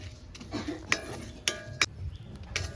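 Watermelon seeds dry-roasting in a pan while being stirred, giving a few sharp, brief scrapes and clinks of the utensil against the pan over a faint, low background.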